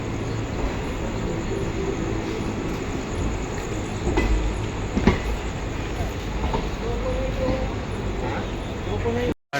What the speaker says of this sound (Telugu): ఆ ట్రైన్ వచ్చి ఆగింది బేగంపేటలో ప్లాట్ఫామ్ నెంబర్ 2 మీద.